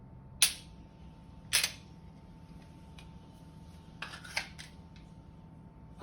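A pistol magazine is removed and reinserted during a presentation drill, giving sharp close mechanical clicks: two isolated snaps about a second apart, then a quick pair of clicks later and a final click, over a quiet steady hum with no talking.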